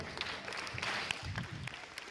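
A short burst of light clapping from a small science-show audience, scattered and fairly quiet, with a murmur of voices underneath.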